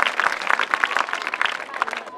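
Audience applause at a public event in Douala, Cameroon: a dense, lively clatter of clapping with crowd voices mixed in, holding fairly loud and steady throughout.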